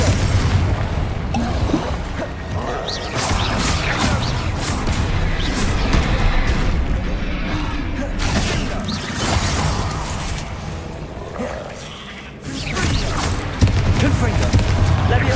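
Blasting Confringo spell explosions in Hogwarts Legacy, a run of loud booms and crashing bursts going off repeatedly over about fifteen seconds, dense and close, with battle clatter between hits.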